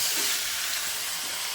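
Malabar spinach with a fish head and pumpkin being stirred in a hot pan, giving off a continuous loud sizzle and hiss, close up and without voices.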